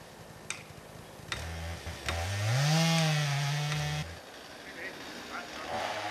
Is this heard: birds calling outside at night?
no